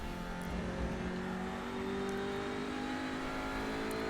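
A TCR race car driving on track at Donington, captured as a steady, loud in-car engine drone with a gradually rising pitch and constant road rumble throughout.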